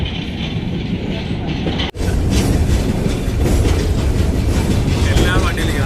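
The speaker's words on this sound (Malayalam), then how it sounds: "ഒരു ഗുഡ് ട്രെയിനിൻ്റെ ബാഗിലിരുന്ന് യാത്ര ചെയ്യുവാണ്" A goods train rolls through forest with a steady, loud rumble and rattle of wagons and wind noise, heard from on board after a brief cut, the clatter continuing unbroken.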